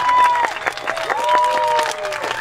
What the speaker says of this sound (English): Can we really give a round of applause for this woman?